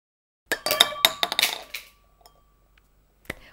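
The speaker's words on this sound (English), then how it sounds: "Now, I will flick the plate with my finger with one clean motion." A plate is flicked off the top of a glass, setting off a quick burst of sharp clinks and rattles, then a ball drops into the glass with a single bright clink after a short silence.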